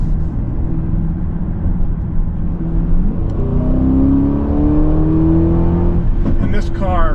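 A 2024 Aston Martin DBX in Sport Plus mode accelerates hard, its engine note climbing steadily in pitch with a rising whine over a steady loud cabin roar, and a voice speaks briefly near the end.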